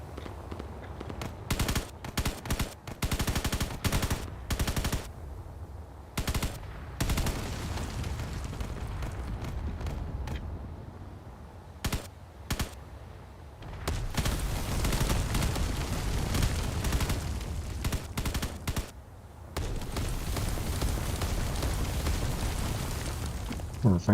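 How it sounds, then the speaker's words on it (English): Mortar strikes and other weapons fire in a Space Engineers battle, heard as dense, loud bursts of explosive booms and rattling blasts that come in irregular clusters across the stretch with only short gaps. "Some mortar strikes are getting closer and closer to their targets"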